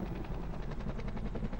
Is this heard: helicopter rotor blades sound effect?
yes